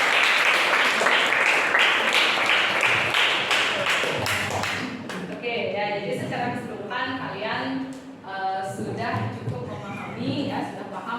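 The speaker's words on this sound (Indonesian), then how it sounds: "Silakan beri tepuk tangan untuk Disa." A classroom group claps for a student, a burst of many hands applauding close by for about five seconds. The clapping fades out and a voice then speaks.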